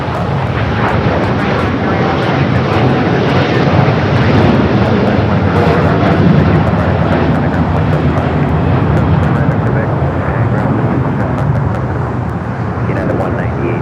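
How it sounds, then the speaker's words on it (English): A heavy Boeing 787 Dreamliner departs an inboard runway at LAX, a loud, steady jet roar that holds throughout, with radio chatter running underneath. "heavy Dreamliner departed the inboard runway"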